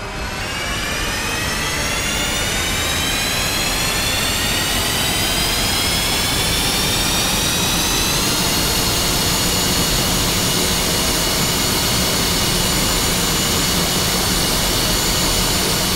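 An F-5E Tiger II jet engine in the DCS World flight simulator spools up and runs steadily at idle, a loud, continuous roar with a rising whine that climbs and then holds for the whole stretch, with no talk over it.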